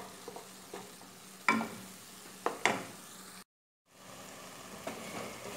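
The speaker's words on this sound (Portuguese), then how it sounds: "Vamos aí refogando essa carne." Ground beef is stirred and sautéed in a pan, a soft, quiet sizzle broken by several scraping stirs of a utensil, with a short silent gap before the gentle frying resumes.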